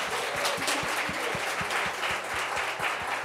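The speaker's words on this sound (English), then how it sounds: "Let's give them a round of applause" A live audience at a financial planning and investing talk applauds steadily, a dense wash of many hands clapping at moderate distance with no voices over it.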